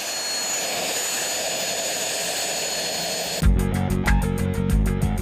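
A loud, steady F-5 fighter jet engine roar fills a maintenance depot test space, then a sudden heavier rumble kicks in with a rhythmic pulsing throb, close and powerful.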